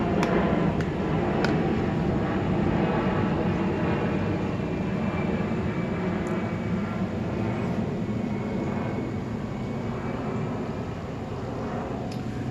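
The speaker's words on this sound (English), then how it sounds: "Another airplane." Steady, broad rumbling drone of an airplane passing overhead, sustained and moderately loud throughout with no speech.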